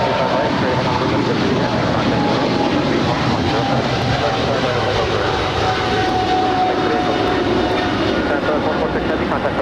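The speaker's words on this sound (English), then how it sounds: "that was China Southern Cargo 777 freighter departing to Shanghai, flight 446" A China Southern Cargo Boeing 777 freighter departing LAX, a loud continuous jet engine roar steady throughout, with faint talk mixed in.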